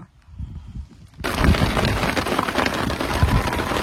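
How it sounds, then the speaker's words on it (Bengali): Heavy rain suddenly pours down on an open fishing boat on the Ajay River, a dense steady hiss that starts after a quiet second and keeps drumming loudly. "কি বৃষ্টি কি বৃষ্টি, ঝমঝমিয়ে"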